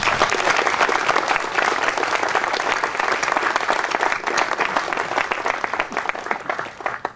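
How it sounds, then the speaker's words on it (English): An audience applauds students at a fraternity dedication ceremony, with dense, sustained clapping from a sizeable crowd that holds steady throughout and only begins to thin at the very end. "So I'd like all of us to give a round of applause to our students."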